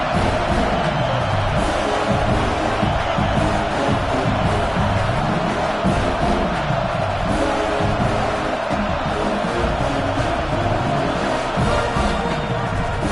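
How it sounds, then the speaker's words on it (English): A college football stadium crowd at Ole Miss vs Texas A&M roars loudly and continuously, a dense, unbroken wall of cheering and noise holding steady throughout. "this crowd trying to help keep them there"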